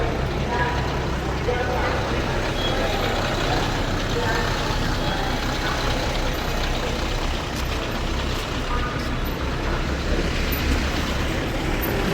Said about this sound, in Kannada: ಇದು ಇವಾಗ ಬಂದಿರೋ ಧಾರವಾಡ ಗಾಡಿ ರಾಯಚೂರು ಧಾರವಾಡ